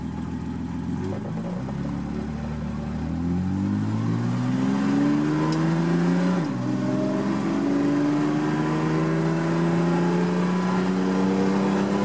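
A 1967 Mercedes-Benz 250SL engine accelerates steadily and loudly, with its pitch climbing through the gears and a brief shift break midway before it pulls on strongly again.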